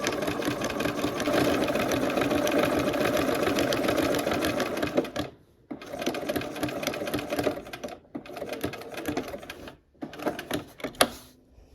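A sewing machine stitching quilt fabric, a steady fast mechanical whir that runs continuously, then stops and restarts in several short bursts, close and alone.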